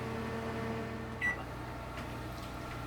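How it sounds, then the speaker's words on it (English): Microwave oven running while melting a tablespoon of butter, a low steady hum with a faint brief tone partway through, quiet and unbroken. "I'm going to melt the butter in the microwave"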